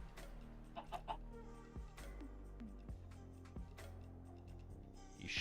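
Minecraft chicken clucks in short, soft bursts scattered over a low, steady game backdrop, several small calls in quick succession, fairly quiet overall.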